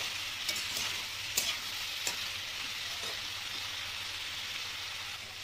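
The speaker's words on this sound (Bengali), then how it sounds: "একটু ভালো করে তেলে এরকম করে কষিয়ে নেব" Cucumber stir-fries in hot oil in a pan, a steady close sizzle with occasional sharp scrapes and clicks from stirring, no voices.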